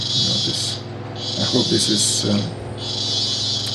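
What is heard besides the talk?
cicadas buzzing in the background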